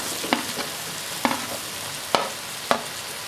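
Green chilies fry in oil in a pan, a steady sizzle punctuated by four sharp clacks of a utensil stirring against the pan, close and clear with no talking.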